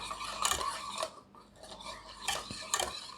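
Cornflour, sugar and orange juice stirred together in a bowl for orange candies, with a spoon clinking and scraping in short bursts, close up, with no voices.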